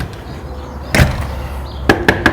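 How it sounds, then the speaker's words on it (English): Four sharp bangs against glass or a frame: one solid hit, a pause, then three quicker knocks in a row, close by with no talking. "there are windows I can bang on"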